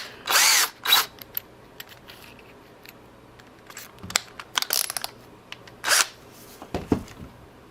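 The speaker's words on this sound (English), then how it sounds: "our drill bit here" Drill bit boring into a PS4 controller shell during a button-mapping mod, in several loud bursts of whirring and grinding with short pauses and smaller clicks and handling noises between them, close and without speech.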